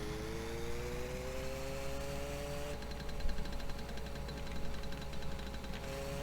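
A car engine in My Summer Car hums steadily at a low level, its pitch shifting partway through as the gears are downshifted, with no talk over it.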